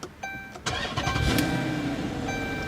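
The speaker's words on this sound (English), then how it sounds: "To start, all you have to do is just put your foot on the brake and tap the button to go." A 2014 Dodge Charger SRT8 engine fires up via push-button ignition after a few faint clicks, catching with a loud burst and settling into a steady, rumbling idle close by.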